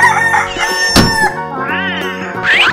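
A cartoon rooster crows loudly and close in a cartoon of wild animals crossing, with music and a sharp sound effect around it.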